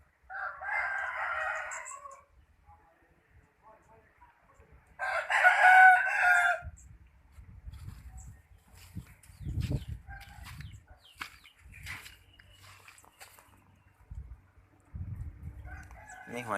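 Roosters crowing on a farm among ducks and chickens, two loud crows a few seconds apart, followed by scattered clucks and rustling with low background noise.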